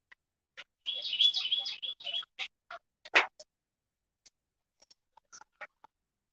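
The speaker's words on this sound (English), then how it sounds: "really, I'm surprised that bird's that loud." A bird calls loudly near a catfishing spot in Tennessee, giving a burst of rapid chirps followed by scattered short tweets. A voice sounds briefly in the middle.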